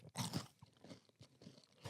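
A cookie made with cricket flour and brown sugar is crunched while being chewed, with several crisp, close bites and chews in quick succession and no talk.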